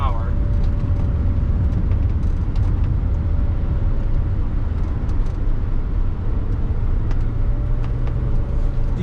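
A 1979 Mercedes-Benz 450SEL 6.9 on the move, its steady engine and road roar loud and continuous throughout, with a faint tonal whine running underneath and no talk.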